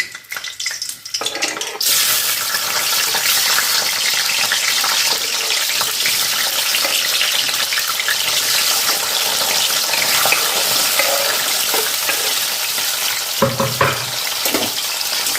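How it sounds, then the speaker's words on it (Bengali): Garlic cloves dropped into hot oil in a pan, a sudden loud sizzle that holds as a dense, steady crackling hiss with occasional stirring scrapes, close and uninterrupted by voices. "তেলটা গরম হয়ে গেছে এবার আমি এর মধ্যেই রসুনগুলো দিয়ে দেবো"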